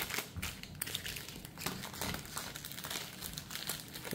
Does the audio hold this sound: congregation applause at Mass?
no